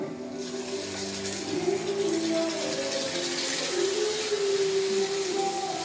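Ground masala paste is poured into a fish curry in a pan, making a continuous wet, rushing pour that lasts the whole stretch over a steady low tonal hum.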